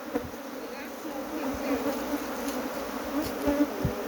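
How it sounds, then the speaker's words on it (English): A swarm of Africanized honeybees at a beehive in Guyana makes a dense, continuous buzzing drone, steady and close, with individual bees flitting past now and then and no voices. "This is Africanized bee country, Mr. Gregory Stewart."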